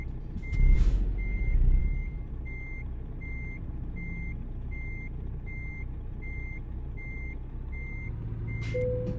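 A truck's reversing alarm in American Truck Simulator beeps in a steady, evenly spaced series of about a dozen tones while it backs a school bus into a parking spot in Oklahoma, over a low engine rumble with a brief air-brake hiss at the start.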